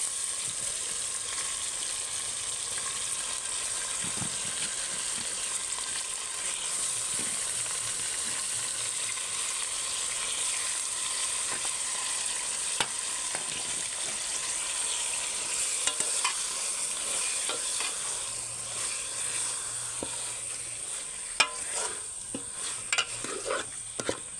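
Chicken fries with softened tomatoes in a pan for biryani, giving a continuous close sizzle with regular stirring scrapes of a spoon, no voices.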